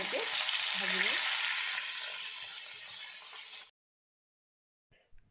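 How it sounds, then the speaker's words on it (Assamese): Fish pieces frying in oil in a kadai give off a steady, close sizzle with a faint clink of a utensil, then the sound cuts to silence, followed by a brief soft knock. "মই মাছকেইডোখৰ ৰঙা হোৱাকৈ ভাজি লৈছোঁ"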